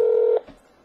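A touch-tone telephone keypad sounds one steady dialing tone that stops abruptly, followed by a faint click and near silence.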